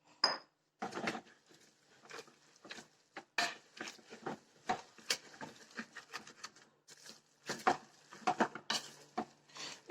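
Intermittent scraping and clinking of a utensil stirring cream into a filling in a pan with the heat off, irregular strokes close by with short pauses between them, no talking.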